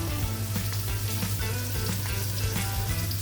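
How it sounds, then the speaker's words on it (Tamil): Eggs fry in a pan for a Sri Lankan home-style meal, giving a loud, dense, continuous sizzle and crackle up close over a steady low hum, with no voices. "முட்டையை பொறித்து முட்டை பொறிக்க போகிறேன்"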